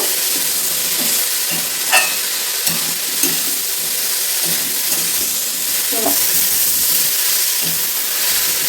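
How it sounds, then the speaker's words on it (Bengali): Ground black pepper, coriander, cumin and sugar stirred in a frying pan for daliya khichuri, a steady sizzle with a few scraping spatula knocks spread through. "এগুলো দিয়ে ভালোভাবে নেড়ে চেড়ে নেব।"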